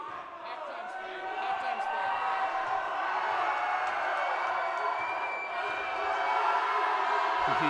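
A high school basketball crowd in a packed gym at St. Joe's roars and cheers continuously, a loud, sustained wall of shouting that swells and stays intense throughout.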